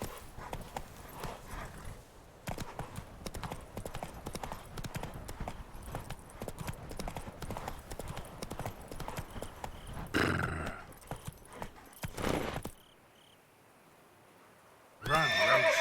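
Roach, Geralt's horse in The Witcher 3, gallops with rapid, loud hoofbeats and neighs sharply near the end, followed by a brief quiet gap before a final burst of hooves.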